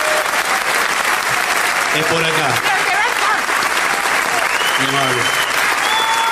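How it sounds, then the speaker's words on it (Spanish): Loud, sustained ovation from a theater audience welcoming a comedian on stage, dense clapping filling the whole stretch while someone speaks briefly over it. "les solicito la más tremenda ovación"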